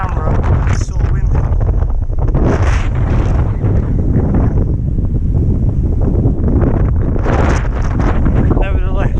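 Strong gusts on the Iron Trunk Loop hike buffet an exposed camera microphone with loud, rumbling roars that surge and ease. A voice is heard only faintly beneath the wind.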